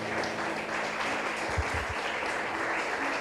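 A church congregation applauding the Lord, with dense, continuous clapping filling the space and a few low thumps partway through.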